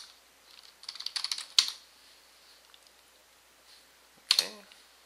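Computer keyboard keys tapped out in a terminal command: a quick burst of clicks, a pause, then a sharp louder keystroke and another at the end, close and clear in a quiet room.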